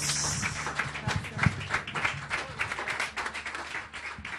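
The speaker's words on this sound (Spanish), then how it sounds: "Fuerte el aplauso para el Señor." A church congregation applauds loudly for the Lord, a dense steady patter of clapping hands filling the space, close and sustained throughout with a few sharper claps standing out.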